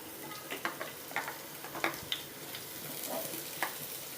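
Ginger and garlic fry in a pan for fish vadai, sizzling steadily at low volume with scattered clicks and scrapes of stirring. No voices are heard.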